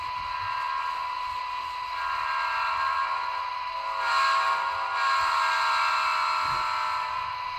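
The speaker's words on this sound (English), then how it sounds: "this is what we call the Doppler horn volume" A model train's Doppler horn sound effect blares steadily over a rumbling engine, its pitch and loudness shifting as if the train passes by, then continuing on.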